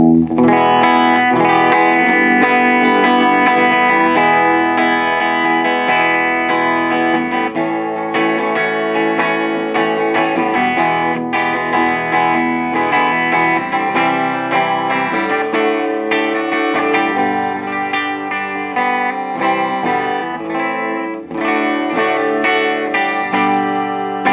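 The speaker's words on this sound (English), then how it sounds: "we're going to just hear how this sounds clean, and then we'll use a little bit of distortion and overdrive" An electric guitar, a Tanglewood ES-335-style semi-hollow on the bridge pickup, plays a string of chords and single notes, clean then with distortion and overdrive, ringing with effects and growing grittier, loud and continuous without any voices.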